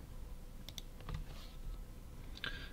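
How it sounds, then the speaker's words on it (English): Keys on a computer keyboard tap in short, irregular bursts over a quiet room, soft and close with a few louder clicks, no voices present. "I'm going to type them out for you so you have them all very clear in one spot"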